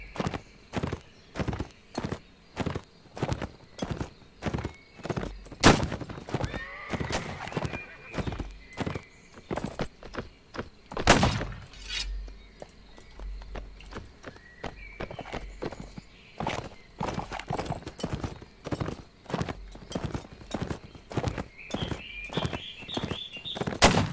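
A horse in the video game Caribbean! charges with rapid, rhythmic hoofbeats and repeated sharp neighs and whinnies, loud and close over a long stretch.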